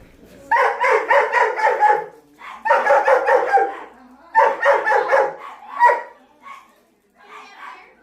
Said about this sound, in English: There's like 7 dogs.